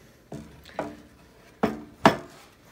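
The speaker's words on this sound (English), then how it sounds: "you can drop in the oil pan" An oil pan dropped into place on a machine during DIY assembly, four separate hard metallic knocks and clanks, close and fairly loud, with quiet pauses between them.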